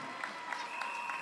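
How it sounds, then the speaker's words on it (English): Crowd applause and scattered cheering at a high school basketball game for the Queen City Bells performance, a brief steady clapping roar with rhythmic accents, mid-distance. "Let's have a big round of applause for the Queen City Bells under the direction of BC Leon"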